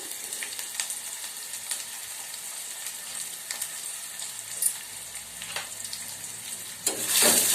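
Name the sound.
onion and curry leaves frying in oil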